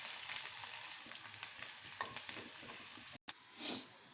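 Chopped onion and peeled garlic fry in a hot pan for a Maharashtrian varan, a steady close sizzle with scattered pops and crackles, a brief dropout, then a soft stirring swell.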